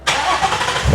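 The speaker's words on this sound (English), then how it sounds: "I'm gonna get in the car and see if I can get it to start." A car engine cranks and catches abruptly, settling into a loud, steady running roar close by with no talk over it.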